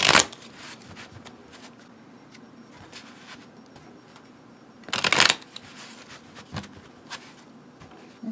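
Playing cards being shuffled in two short riffling bursts, one at the start and another midway, separated by quiet handling noises.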